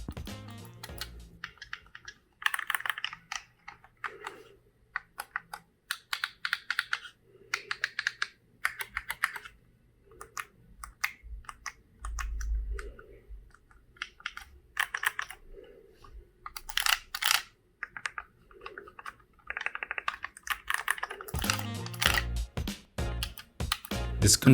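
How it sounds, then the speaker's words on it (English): Buttons on a Thrustmaster eSwap Pro controller are pressed close up, giving crisp clicks like a mechanical keyboard that come in quick bursts and single presses with short pauses between, and no voice over them. "the buttons are very nice to press, kinda like a mechanical keyboard"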